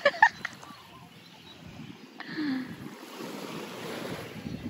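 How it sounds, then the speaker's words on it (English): Soft waves washing in gently under a low breeze, with a couple of bird chirps at the start. "just listening to the waves"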